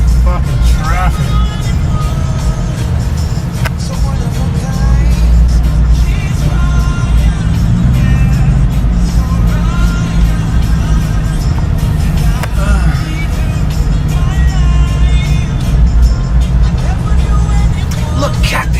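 Steady road traffic on an island town, cars and other vehicles rumbling and passing continuously close by, with people talking over the engine noise throughout.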